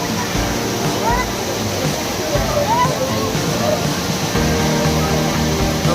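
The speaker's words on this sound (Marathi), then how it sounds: "हे बघा जोरदार धबधबा चालू आहे इथे." A strong monsoon waterfall at Malshej Ghat roaring steadily nearby, with a crowd of people enjoying themselves beneath it and voices chattering under the rushing water.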